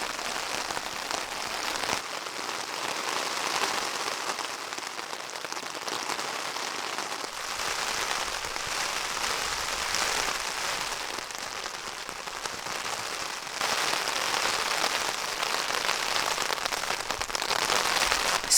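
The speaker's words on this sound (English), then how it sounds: "I'm gonna stay and just listen to the rain for a while" Steady winter rain falls throughout, a dense broadband patter with faint crackling drops, continuous and fairly loud with no voices.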